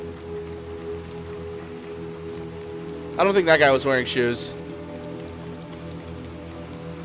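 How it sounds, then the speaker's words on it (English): Rain falls steadily in the video game Little Nightmares II, a soft, even patter heard close by throughout, while someone talks briefly over it. "God, the amount of rain this place gets."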